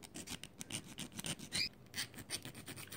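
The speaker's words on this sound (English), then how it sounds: "I'm going to take a file here and scrape a little bit the bottom of the batteries." A metal file scrapes across the bottom of cylindrical battery cells for a radio battery pack, making a steady run of close, soft rasping strokes with no talk.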